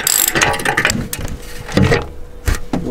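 Quick bursts of ratcheting clicks, a ratchet wrench being cranked in short uneven strokes on seat screws in a VW Caddy van, close by with brief pauses between turns.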